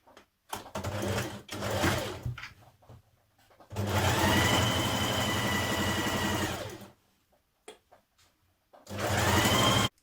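A sewing machine stitches a jacket seam in several bursts, the longest running about three seconds, with pauses and small clicks between.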